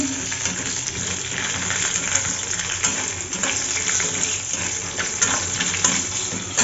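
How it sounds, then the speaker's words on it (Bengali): Steady sizzling of peanuts frying in a pan, with faint stirring scrapes running continuously throughout, close and fairly loud. "এবার এই যে বাদাম ভেজে নিচ্ছি"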